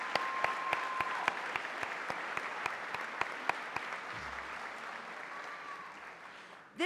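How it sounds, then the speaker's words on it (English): Audience applause at a 2014 award ceremony, a steady wash of many hands clapping that holds for several seconds with a few sharper individual claps standing out, then ends abruptly. "Please join me on a round of applause."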